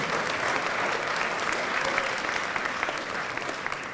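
Loud, steady applause from a large comedy show audience with scattered cheers and whistles, sustained throughout without a break.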